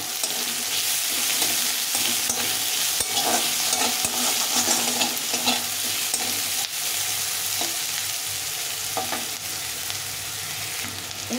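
Potato and onion frying with spices in a pan, a steady loud sizzle with scraping stir strokes throughout, close and continuous with no talking.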